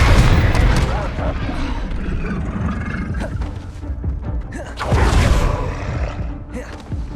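Confringo fire-blast spells exploding in Hogwarts Legacy: loud, booming blasts in repeated bursts, with a big one at the start and another around the middle, over a continuous roar of combat.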